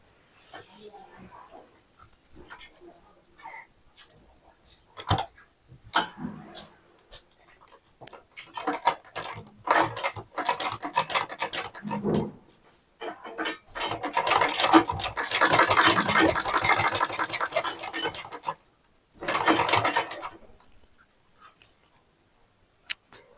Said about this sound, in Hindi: आप इसके साइड साइड से सिलाई चला लें।